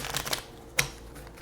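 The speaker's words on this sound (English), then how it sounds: "I'm going to shuffle one more time." Tarot cards are shuffled in a few quick riffling bursts, followed by a single sharp snap as the deck settles, close and fairly quiet.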